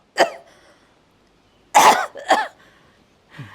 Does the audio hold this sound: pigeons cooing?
no